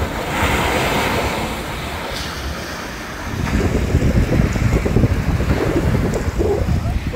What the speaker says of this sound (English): There's just something special about the salt air, crashing waves, ocean breezes,